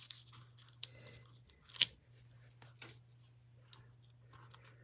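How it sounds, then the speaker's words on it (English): Backings are peeled off foam dimensionals during card making, producing a few sharp tearing and crinkling bursts in a quiet room, one louder peel standing out. "So let's take the backings off."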